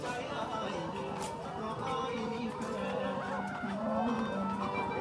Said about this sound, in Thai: ไก่ไข่